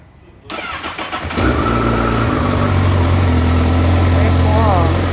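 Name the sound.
motorcycle engine starting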